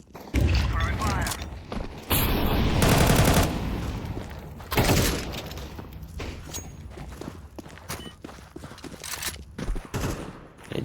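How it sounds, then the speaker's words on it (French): Flashbang and fire grenade thrown during a Counter-Strike 2 match, with loud bursts of gunfire, blasts and footsteps in quick succession, and players talking over the action. "I'm throwing the flashbang. Throwing fire."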